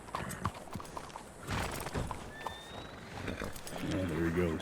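A horse in the Red Dead Redemption 2 video game, with hoof clip-clops and a short whinny near the end, mixed under ongoing conversation between players.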